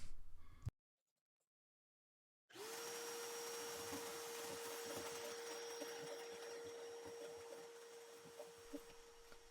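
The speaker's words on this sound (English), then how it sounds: "using my shop vacuum while cutting helps with a lot of the mess" After a brief knock and a moment of silence, a shop vacuum starts and runs steadily while laminate flooring is cut, with a loud whining drone and occasional clicks beneath it.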